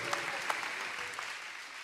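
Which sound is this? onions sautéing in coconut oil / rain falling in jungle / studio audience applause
studio audience applause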